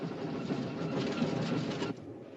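Steam train running on rails on the North West Frontier, a loud continuous rumble with rhythmic clickety-clack of wheels over rail joints, close and steady, easing slightly near the end.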